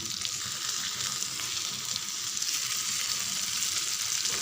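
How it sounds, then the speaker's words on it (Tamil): Fish pieces fry in oil over a low flame for a sangara fish poriyal, giving a constant, dense sizzle close by with no talking. "இந்த மீன் எண்ணெயில் தான் வேகணும்."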